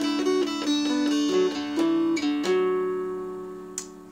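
Guitar tune played with every note picked individually, a choppier run of distinct plucked notes close up that ends on a sustained ringing chord, with no voices.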